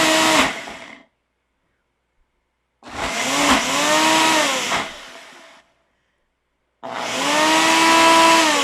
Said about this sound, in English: This is how it always is when you're not using your most powerful blender.